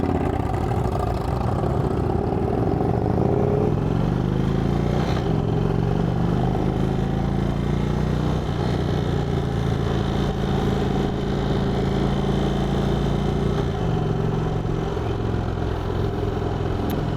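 An Indian Chief Vintage motorcycle engine idles with a steady low, throbbing burble and faint mechanical clatter, close and even in loudness throughout, with small shifts in pitch and no talking.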